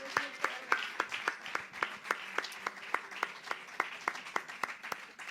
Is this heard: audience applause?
yes